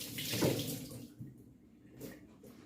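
Running water splashes into a kitchen sink as it is rinsed out with water and bleach, a faint, brief gush that fades into quieter trickles.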